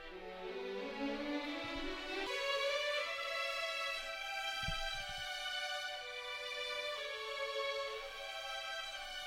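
Spitfire Audio studio strings, violins and viola layered together, play sustained chords with a swell and gentle note changes, full and steady, with no talking.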